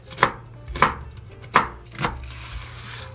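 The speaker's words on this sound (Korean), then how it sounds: "대파는 반 갈라서 그냥 총총 좀 너무 잘게 썰지 마시고 이렇게 썰어주시면 되고요" Knife chopping green onion on a cutting board while making a pork gochujang stew, four crisp close chops spaced about half a second apart, then the board goes quiet, with no talking.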